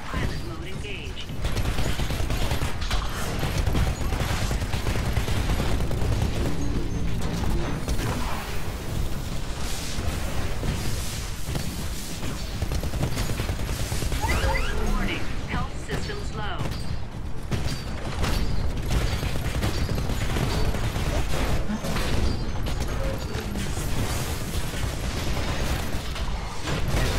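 A Titan drops into a Titanfall match amid dense gunfire, a continuous loud barrage of metallic clanks, bursts and crunching impacts over the whole stretch, with a voice talking at times.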